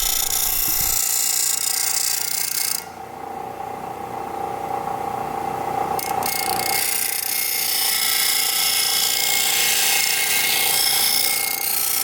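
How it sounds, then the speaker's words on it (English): A sanding wheel grinds a workpiece for a cornhole project, a loud steady whirring drone throughout that briefly dips as pressure changes, then holds strong again with no voices. "Always sand on the right side of the wheel, as the left side could eject your piece."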